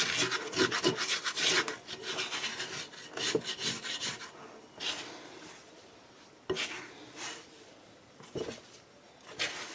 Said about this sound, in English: I'm actually going to scrape some of the flour off the side here